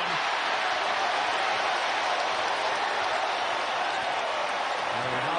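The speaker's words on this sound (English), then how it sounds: "The crowd is thrilled." Basketball arena crowd at a UConn versus Xavier college game cheering and applauding, a dense, loud, sustained roar with clapping throughout, broadcast commentary voice underneath.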